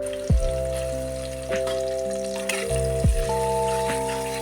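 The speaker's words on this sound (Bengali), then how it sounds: "পেঁয়াজগুলো কিছুক্ষণ নেড়ে বেজে নেব" Chopped onions frying in soybean oil with bay leaf, cardamom and cloves in a pan, with a few sharp clacks and scrapes of stirring over a faint sizzle, no voices.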